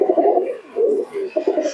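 Malbai pigeons coo in soft, low, rolling phrases at close range, two or three bursts with short pauses between.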